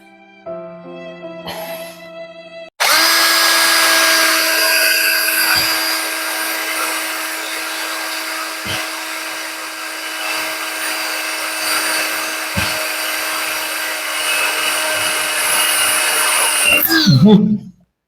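A power drill grinds loudly and continuously into concrete while installing an LED fluorescent light, about fifteen seconds after a short quieter start, then stops abruptly.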